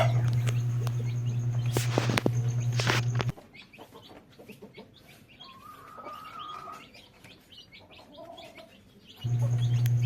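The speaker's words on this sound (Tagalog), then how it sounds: "sila po ay tumutuka na po ng kanilang pagkain or feeds" Chickens and ducks in a backyard pen feeding on their feed, with clucking, chirping and bird calls close by, a steady machine hum at the start and end, and quieter pecking-time sounds in between.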